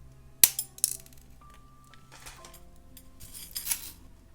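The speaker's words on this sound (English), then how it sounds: "now I'm going to snip off the amount of chain that I need" Jewelry cutters snip through a fine metal chain, making a couple of sharp close clicks near the start followed by faint rattling and handling of small links, with no talking.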